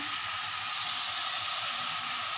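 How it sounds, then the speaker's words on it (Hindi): Vegetables frying in a pot for a black pepper chicken dish give off a steady, loud, close sizzle with a bright hiss that carries evenly from start to finish, and no voices are heard. "देखें वेजिटेबल्स फ्राई हो रही हैं"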